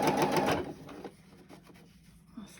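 A sewing machine stitches elastic onto a fabric face mask in a short, loud whirring burst. It then slows into quieter intermittent clicks of the mechanism.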